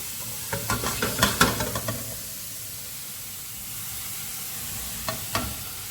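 Vegetables sizzle and hiss steadily in a frying pan while a utensil stirs them with a quick run of scraping clatters, then the sizzle carries on alone with a couple of late stirs.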